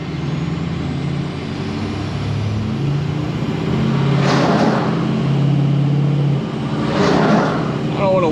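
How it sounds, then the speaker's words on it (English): A loud garbage truck drives past on a street: a heavy rumbling engine with rising, swelling roars and hissing bursts, steady and close throughout. "Gosh, that trash truck is so loud."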